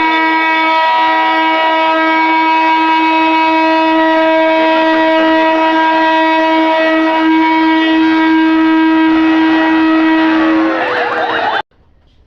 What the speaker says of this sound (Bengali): এখন আপনারা হুইসেল শুনতে পারছেন ট্রেনের